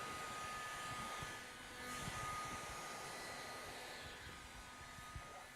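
A heat gun blows steadily while heating vinyl wrap film on a vehicle body during a full wrap job, a constant broadband airy roar at moderate distance with a slight dip and swell midway.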